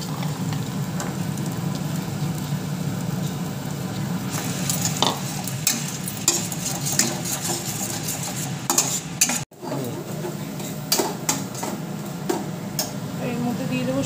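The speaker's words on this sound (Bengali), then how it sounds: "কড়াইশুঁটিগুলো দিয়ে দিচ্ছি" Green peas fry in a wok with spices, giving a steady, close sizzle under repeated stirring scrapes and utensil clicks, with a sharp break around the middle.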